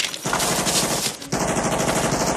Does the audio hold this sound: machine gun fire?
yes